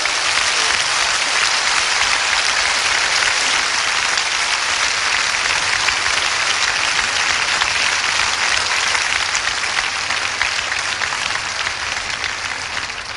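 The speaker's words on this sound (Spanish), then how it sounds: "Demos un aplauso en alabanza al Señor" A church congregation gives sustained applause as a praise offering during an evangelistic service, dense loud clapping filling the whole stretch without letting up and easing only slightly at the end.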